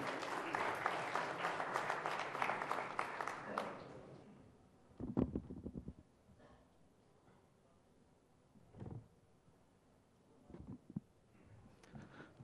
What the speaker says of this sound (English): So let's give them a warm round of applause before we begin.